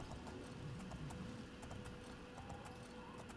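Hooves of a horse galloping in the game Oblivion, a quick rhythmic clip-clop over a soft outdoor ambience, fairly faint and steady without any talking.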